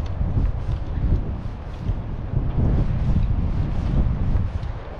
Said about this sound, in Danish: vinden er latterlig. Den vender rundt.